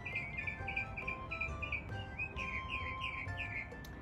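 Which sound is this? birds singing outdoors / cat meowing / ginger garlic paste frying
birds singing outdoors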